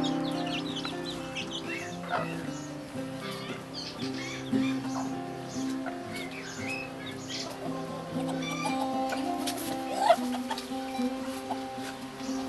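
Hens, cockerels and chicks in an organic forest garden cluck and peep steadily throughout, with several birds calling close by over a busy background chatter and a louder squawk near the end.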